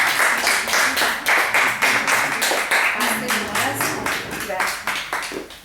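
A small group claps together after a guided breathing exercise, a close, lively patter of distinct hand claps that holds steady and then thins out toward the end, with a voice briefly heard underneath.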